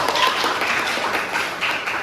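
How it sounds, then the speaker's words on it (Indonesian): Dense applause from a group in a classroom session, a short burst of many hands clapping at once, close and steady before easing slightly. "Tepuk tangan dulu buat Kang Nopal"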